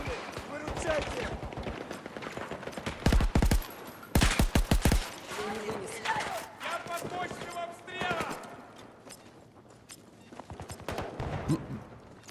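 Bursts of automatic gunfire with heavy recoil in the shooter game Battlefield 2042, rapid strings of shots broken by short pauses, loud and close, with a player talking over much of it.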